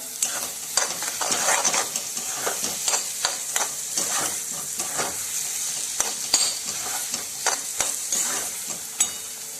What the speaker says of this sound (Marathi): हलवत राहायचं आहे नाहीतर ते खाली चिटकतं